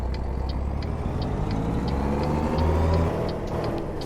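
Truck engine in American Truck Simulator revving too high, a steady loud mechanical drone with a slight rise in pitch near the end, alone without talk.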